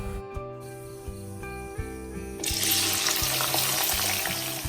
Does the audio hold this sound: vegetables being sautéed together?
yes